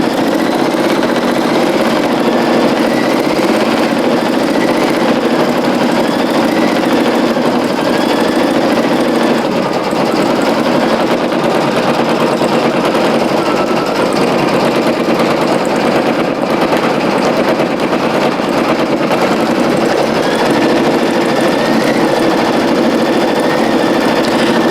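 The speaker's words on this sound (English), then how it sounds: "So I'll let it continue stitching" A Brother single-needle embroidery machine stitching a towel gives a loud, steady, rapid mechanical whirring and buzzing that runs unbroken throughout.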